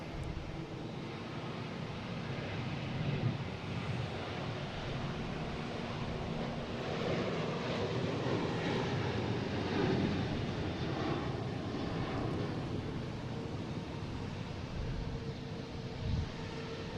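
American Airlines airliner departing Boston Logan for Charlotte gives a moderate, rolling jet roar that swells and eases slightly over time, mixed with some wind buffeting, no one talking.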